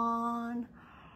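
A single drawn-out vocal yawn, strong and tonal at first, then trailing off into a softer breathy exhale, heard close and alone at a children's bedtime story time.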